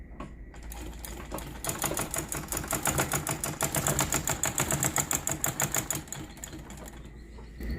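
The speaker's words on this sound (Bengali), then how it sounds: "এখন চেক করে সেলাই করে দেখি কীরকম হয়" A sewing machine stitches steadily at close range, its needle clattering in a fast even rhythm from a short start-up, then running continuously before slowing at the end.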